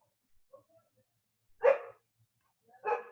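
A dog barks twice in short, loud bursts about a second apart, with faint yips and whimpers before them and otherwise quiet surroundings; the dog reacts to delivery vans passing on the street.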